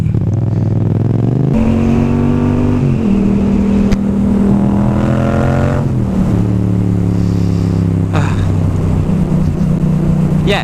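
A Yamaha MT-07 motorcycle with Hyperpro suspension rides on a road. A loud, close engine note climbs and falls as the rider shifts through several gears, with wind noise throughout.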